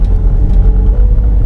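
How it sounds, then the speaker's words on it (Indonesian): Two motorbikes ride along a quiet road, giving a steady, fairly loud low engine rumble that holds throughout with no voices. "masih ada motor di depan, ada 2 itu"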